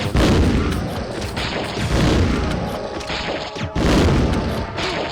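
Grenade launcher fire in the video game Resident Evil Survivor: loud, dense booming blasts and crashing impacts that fill the stretch almost continuously, with a brief dip before another heavy burst.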